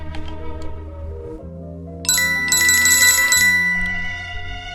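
Notification bell sound effect, bright ringing bell tones entering midway over a steady musical bed, loud and close, with no speech.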